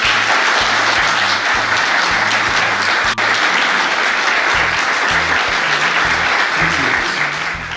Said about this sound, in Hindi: एक जोरदार क्लैप कीजिए 1 2 3 ताली